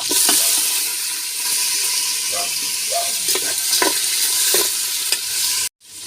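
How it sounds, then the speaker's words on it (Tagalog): Pork meat sautéing in a pan over a wood-fired stove, with a loud, close, continuous sizzle and hiss and intermittent stirring scrapes, cutting off abruptly near the end. "igisa natin yung karne"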